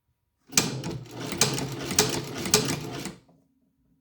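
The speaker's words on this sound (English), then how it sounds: "I'm going to back stitch it." A compact rotating-head leather shoe-patcher sewing machine back stitches a patch onto a motorcycle vest, one close, steady mechanical run of about three seconds with a faint pulsing rhythm, silent before and after.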